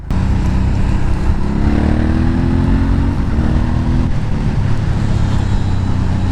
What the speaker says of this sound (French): Et par le bruit du bicylindre aussi, qui est juste énorme.